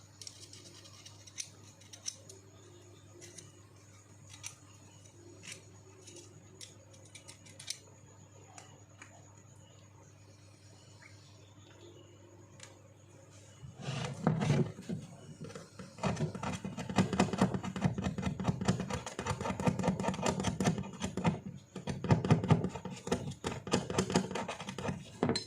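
Scrubbing and scraping on the valve surface of a dripping water faucet, faint scattered clicks at first, then a louder, continuous rapid scratching that runs steadily to the end.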